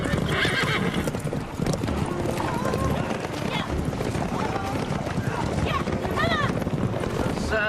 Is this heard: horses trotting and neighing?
yes